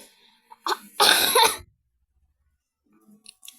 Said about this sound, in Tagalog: may ubo kasi ako.